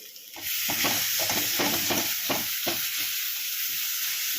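A spice paste masala for egg curry fries in a wok, a steady loud sizzle broken by repeated stirring scrapes in an uneven rhythm, close and continuous with no talking.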